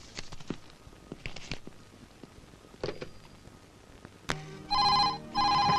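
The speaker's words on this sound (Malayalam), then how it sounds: "ഫോൺ എടുക്ക" An old-style telephone bell rings in two loud bursts inside a police station office, preceded by scattered footsteps and small knocks.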